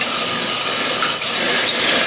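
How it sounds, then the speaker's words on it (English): Tap water runs steadily from a faucet into a small glass bowl, a continuous broadband splashing hiss that holds even for about two seconds, close and fairly loud with no talking. "And we'll just collect some tap water here in the smaller bowl."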